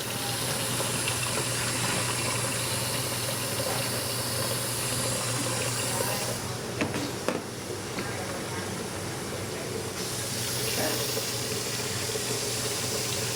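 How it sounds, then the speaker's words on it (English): Hot tap water running into a deep fryer being prepared for a boil-out, a steady loud rushing gush with a faint hum underneath, continuous throughout with a small clunk midway. "I'm going to go ahead and just put hot water in here."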